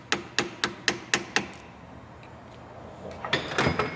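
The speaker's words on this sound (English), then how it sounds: "Using a hammer and a screwdriver, press that tab fully out of place." A hammer drives a screwdriver to pry a metal locking tab out of place, giving six sharp, evenly spaced metallic strikes up close, then a pause and a scrape with a cluster of softer knocks.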